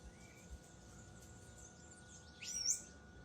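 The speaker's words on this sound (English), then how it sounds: "the birds, the sound of the birds flying." Birds chirp faintly in the early morning outdoors among trees and plants, a few thin, distant calls over quiet ambient hiss, with a slightly louder burst near the end.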